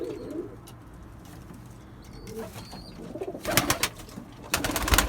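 Low cooing of pigeons during a night feeding, soft and nearby, joined by fluttering wing and scuffling noises that grow louder toward the end.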